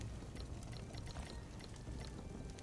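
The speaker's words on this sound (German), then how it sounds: "Füllen wir nochmal Wasser auf" Water being refilled in the survival game Soulmask, a steady continuous pouring and splashing stream heard close and alone, with faint bright droplet plinks scattered through it.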